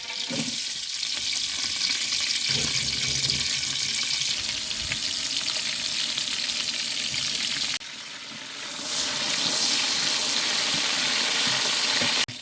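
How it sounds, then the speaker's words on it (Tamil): Loud, continuous sizzling of chopped onions frying in hot oil for chicken biryani, with brief stirring scrapes and a short dip in intensity midway. "முந்நூறு கிராம் நறுக்கி வச்ச பல்லாரி போடுவாங்க."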